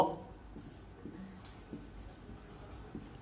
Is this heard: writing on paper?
yes